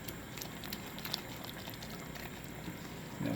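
Homemade chili with chipotle peppers and cumin simmers in a pot, a faint, soft bubbling and light patter that runs steadily, with no voices.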